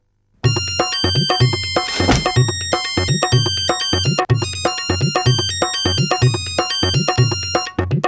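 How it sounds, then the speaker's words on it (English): A Hutch mobile phone ringtone plays loudly and steadily, a bright electronic melody of rapid repeated tones that fills nearly the whole stretch with barely a pause. "You can now download all the latest ringtones on your phone"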